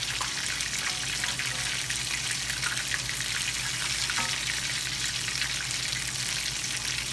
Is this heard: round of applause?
no